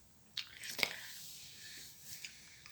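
Football-shaped gummy jelly being bitten and chewed up close, a couple of soft squishy bites followed by quiet wet chewing, faint and intimate with no talking.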